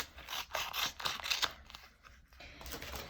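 Scissors trim cardstock down to card size for die-cut crafting. Several crisp, close snips come in quick bursts, with a brief pause before a final run of cutting.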